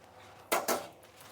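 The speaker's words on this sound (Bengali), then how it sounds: "কড়াইটা আবার বসিয়ে দিয়েছি" A metal kadai set back down on a kitchen stove while cooking Bengali katla fish, two quick close clanks in succession against a quiet background.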